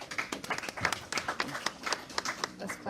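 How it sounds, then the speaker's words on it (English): Audience applause for a NASCAR Sprint Cup champion at a Pocono event, a steady patter of many hands clapping at moderate distance with brief voices mixed in, continuing throughout. "Those claps for you."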